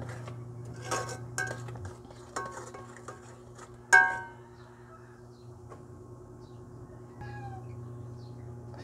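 A spoon stirs a coconut milk dish seasoned with pepper in a pot. It makes sparse metallic clinks and scrapes against the pot, with one louder knock midway, over a quiet low hum in an indoor home setting.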